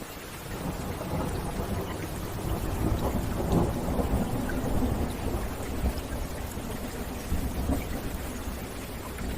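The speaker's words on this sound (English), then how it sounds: "The rain falling steadily and thunder rumbling far away." Steady gentle rain falls throughout while low thunder rumbles far off, a soft, even wash of sound with a faint swell of rumble near the middle.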